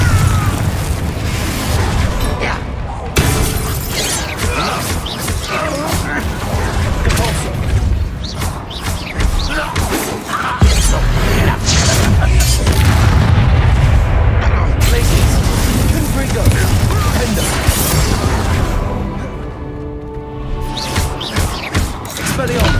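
Spell blasts and explosions from the Confringo fire spell in Hogwarts Legacy, played on PS5, with loud booming bursts and rumbling impacts layered over game music and effects for a sustained stretch.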